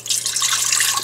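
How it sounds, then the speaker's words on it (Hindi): Water streams steadily with a bright hissing splash as it is poured into a pressure cooker for egg potato curry, close and continuous. "पानी डाल दें।"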